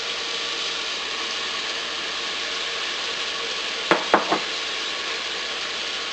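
Beef browning in a hot pan keeps up a steady, close sizzle, with onion dropped in near the end as three quick clattering clicks rise above the frying.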